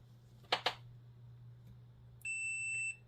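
A multimeter checks a faulty protection diode on a Cobra 148F GTL CB radio: two quick probe clicks, then one steady continuity beep lasting under a second in a quiet room.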